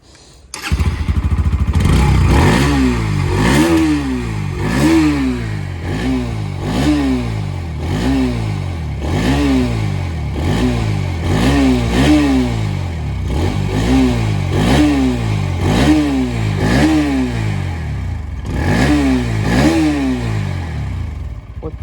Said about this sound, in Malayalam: ഇനി ജസ്റ്റ് വണ്ടീൻ്റെ എക്സോസ്റ്റും കൂടി കേൾപ്പിച്ചെന്ന് വീഡിയോ വൈൻഡ് അപ്പ് ചെയ്യാം